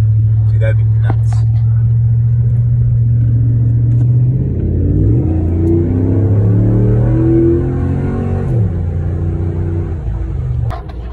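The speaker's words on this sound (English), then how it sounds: "I'm driving on the shoulder because I'm filming too." Car engine hum from inside a vehicle driving along a road shoulder, a steady low drone that shifts pitch as it changes speed, with a few short bumps at the start and end; no one speaks.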